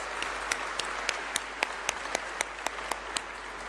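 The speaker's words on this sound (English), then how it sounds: "So let's give all of them a round of applause" A crowd at the Global Entrepreneurship Summit applauds scholarship winners, a short, steady wash of clapping with a few louder, sharper hand claps popping out at regular intervals.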